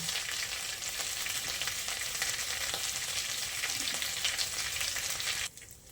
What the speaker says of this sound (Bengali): শুকনো লঙ্কা তেজপাতা ভাজা হয়ে গেছে